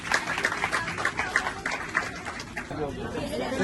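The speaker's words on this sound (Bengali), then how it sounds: "একটু জোরে হাততালি সবার" Crowd at a marathon race prize announcement in Burdwan applauds the winner, steady clapping mixed with chatter and talk throughout, moderately loud and continuous.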